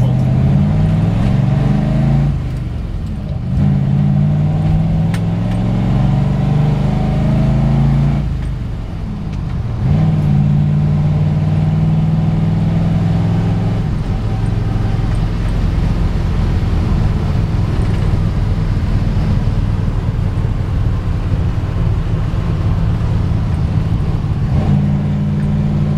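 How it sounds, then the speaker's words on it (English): A 1940 Ford Deluxe convertible drives along with its engine running steadily throughout, its low rumble rising and falling as it revs and shifts, with no talking. "Classic 1940 Ford convertible."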